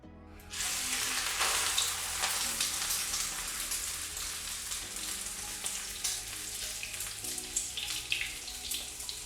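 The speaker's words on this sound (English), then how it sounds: "So we've got our pork belly all seared up." Pork belly sears in a hot pan with a loud, continuous sizzle and spitting fat that runs steadily after a quick start, with no voices over it.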